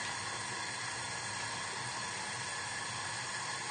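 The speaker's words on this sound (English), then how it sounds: "You'll know if the pan's the right temperature because you'll hear a really loud sizzle." A steady, loud sizzle of cod frying skin-side in a hot pan, an unbroken hiss with no pauses.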